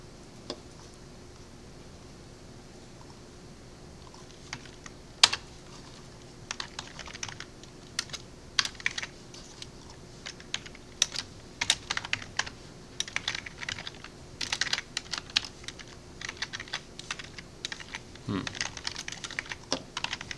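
Typing on a computer keyboard during a cybersecurity lab session at a terminal, with sparse clicks that turn into steady, fairly quiet, close key tapping.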